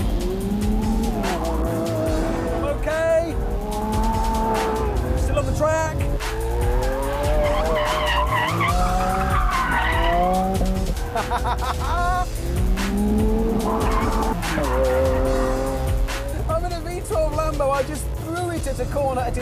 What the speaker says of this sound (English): into a corner at insane speed, and it went round.